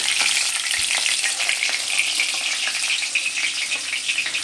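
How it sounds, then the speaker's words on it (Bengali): Pieces of snakehead fish fry in a small amount of oil, giving a loud, steady, crackling sizzle that runs continuously without a break. "এইভাবে অল্প তেলে অল্প অল্প করে মাছ ভেজে নিলেই কিন্তু খুব ভালো হয়।"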